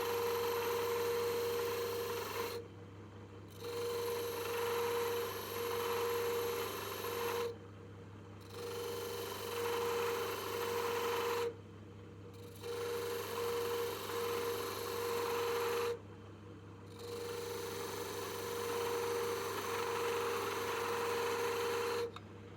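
A carbide cutter turns a slightly wobbling piece of ash on a wood lathe, a steady whirring, rasping hum broken by four short pauses where the cut stops, close and moderately loud.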